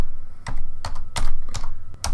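Brisk typing on a computer keyboard, a quick run of sharp, close key clicks in short bursts with small pauses between.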